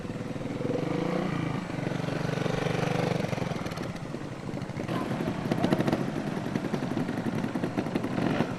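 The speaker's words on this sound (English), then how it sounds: "he is riding a 4-stroke here, so he's got that added luxury of a bit more engine braking" Four-stroke trials motorcycle creeping slowly through a tight cone slalom, its engine burbling and braking at low revs, with rising and falling throttle blips, fairly close and continuous.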